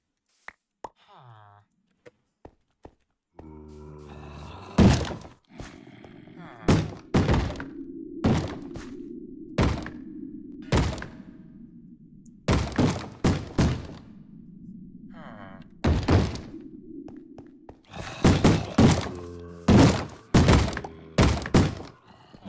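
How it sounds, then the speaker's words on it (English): Loud, sharp thuds bang against a door in repeated bursts, some single knocks and some rapid clusters, over a low steady hum, with a brief groaning voice near the start. "There they go again, banging down on my door."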